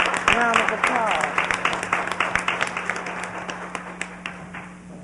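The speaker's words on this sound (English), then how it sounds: "Give him a round of applause." An audience at an essay contest award ceremony applauds the first place winner, clapping under a few voices and cheers, thinning out into rhythmic individual claps.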